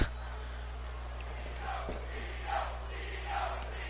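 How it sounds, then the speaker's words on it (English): A virtual arena crowd in the WWE 2K22 wrestling video game cheers for Io Shirai in her match against Candice LeRae on Monday Night Raw, a distant, swelling roar with a few louder surges, heard over a steady low hum. "you hear the crowd cheering for Io Shirai"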